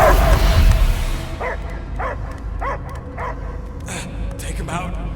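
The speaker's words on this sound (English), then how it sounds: "I hear only barking." A possessed creature barks in the Guardians of the Galaxy video game, a short run of sharp, evenly spaced barks and yips that rises louder toward the end, heard over game music and a low ambient rumble.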